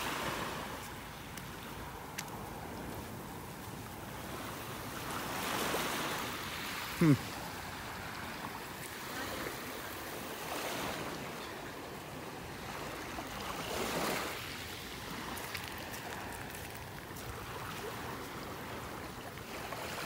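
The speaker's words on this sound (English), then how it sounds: "there goes the wave" Ocean waves wash up on a beach in North Naples, Florida, a steady surf rumble that swells twice, heard outdoors with some wind and no talking.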